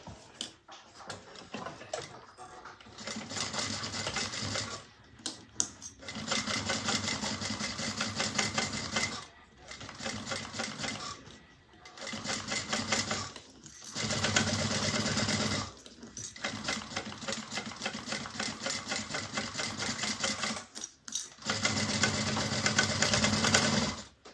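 A sewing machine stitches a bag seam in several bursts of rapid, even whirring and clatter, each separated by short pauses, close and clear with no talking.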